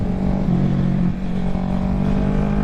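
A Kawasaki Ninja 650 motorcycle accelerates on a back road, its engine a loud, close, steady drone that climbs slightly in pitch, with wind rush around it.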